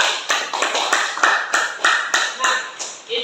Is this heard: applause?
yes